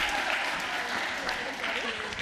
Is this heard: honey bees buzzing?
no